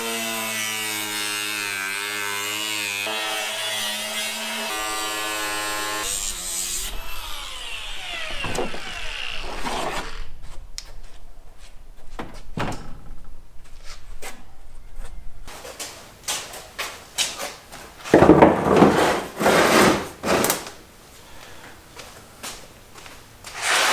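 A power tool whines with a steady high tone, then stops, followed by clattering, knocking and bursts of grinding as it cuts through a car body covered in Bondo during a V8 swap into a Honda, close and loud.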